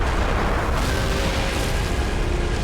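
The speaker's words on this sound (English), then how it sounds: "hopefully the airstrike will do some damage. There it comes." An airstrike explosion in the army-men strategy game Army Men of War, a loud, continuous rumbling blast that fills the short stretch without any voice.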